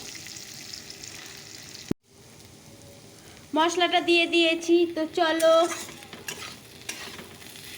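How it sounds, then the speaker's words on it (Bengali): Potatoes and cauliflower frying in a pan for a chorchori, with mustard and spices, give a steady sizzle and stirring noise while a person talks over it partway through. "আলু ফুলকপি চচ্চটি বসিয়ে দিয়েছি তো এটাকে ভাজা ভাজা করে নিই"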